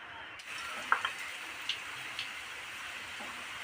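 Potatoes go into hot oil tempered with five-spice seeds and start frying with a soft, continuous sizzle broken by a few small crackles and pops, at moderate level close by.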